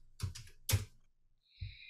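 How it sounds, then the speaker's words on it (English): A few soft keystrokes on a computer keyboard as a short command is typed on a Windows PC, quiet and close, with isolated clicks and brief pauses between them. "Let's type help"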